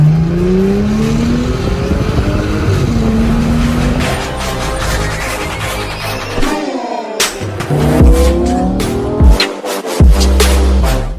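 An Audi S5 with a 3.0T engine and APR Stage 2 tune revs loudly and aggressively in repeated rising pulls, with sharp crackles and pops between the throttle blips, close and continuous.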